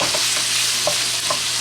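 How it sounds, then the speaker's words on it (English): Shrimp for shrimp al ajillo sizzles steadily in a frying pan, with a utensil scraping and tapping the pan every half second or so as it is stirred. "So what we're doing is cooking our shrimp, making sure that everything is nicely cooked"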